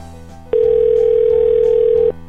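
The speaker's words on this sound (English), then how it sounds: "The pizza place phone is just ringing off the hook there." A call to a pizza place rings unanswered, heard as one loud steady electronic ring tone lasting about a second and a half, with no one speaking.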